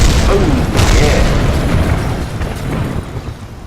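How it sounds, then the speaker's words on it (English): A loud, deep rumbling blast from a rocket exploding on impact in Kerbal Space Program, a dense boom with crackling debris that rolls on and slowly fades over several seconds. "That dual explosion"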